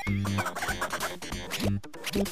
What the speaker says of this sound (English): these chickens are crazy.